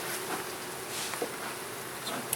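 Honey bees buzz steadily around an opened backyard hive during an inspection with smoke, a dense continuous drone close by with no talk.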